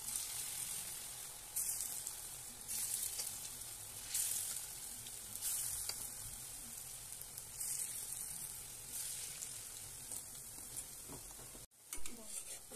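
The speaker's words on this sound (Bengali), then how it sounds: "এবার আমি পকোড়াগুলো আস্তে আস্তে ছেড়ে দেবো তেলের মধ্যে।" Pakoras slipped into hot refined oil one by one, each drop setting off a fresh burst of crackling sizzle over a constant low frying hiss, fairly quiet and close, with a brief clatter near the end.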